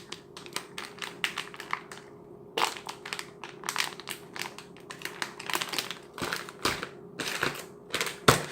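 Crinkling plastic of a Korean civilian Type II MRE ration bag handled up close, a quiet run of sharp rustles and crackles in irregular bursts with brief pauses.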